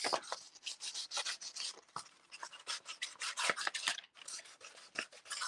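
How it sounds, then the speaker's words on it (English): Sandpaper rubbed by hand around the edges of a small craft piece, brisk repeated rasping strokes in quick rhythm, close and clear with no talking. "remember that sandpaper that we were using earlier? You can get that out and go around the edges."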